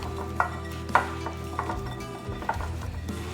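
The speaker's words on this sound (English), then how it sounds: "we're just going to go in with our hands and toss our potatoes until they are completely covered in" Potatoes tossed with seasoning by hand in a bowl, giving soft close clacks and rustling tumbles at irregular intervals, quiet and without talk.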